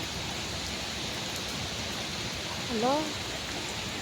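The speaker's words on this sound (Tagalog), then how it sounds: "Lakas kasi ng ulan eh." Heavy, continuous rain pours down over a flooding village park, making a dense, steady hiss throughout, while a voice briefly calls out once near the end.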